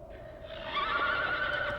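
A horse whinnies once, a rising, wavering call rather close and clear, with no voices over it; the setting is herding country of ancient nomads in Siberia's Altai Mountains.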